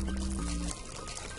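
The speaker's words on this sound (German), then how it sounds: "Wasser!" Water splashing in the Worms Revolution video game, a dense, loud wash of sloshing and gurgling liquid noise under a brief low tonal hum that cuts off partway through.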